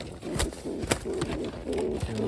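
A pigeon coos and calls close by while being caught and held in the hand, soft repeated cooing pulses with faint flutters and handling noises mixed in.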